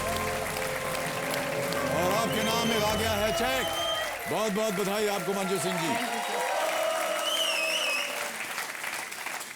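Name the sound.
studio audience applause on game show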